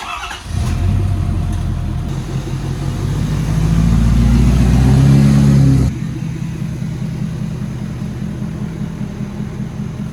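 A Ford Powerstroke truck's engine starts, rises into a loud, swelling rev for a few seconds, then drops back to a steady, lower running rumble nearby as the truck is moved and parked.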